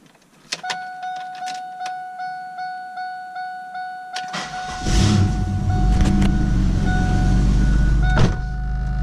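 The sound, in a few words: $500 car engine starting on a cold start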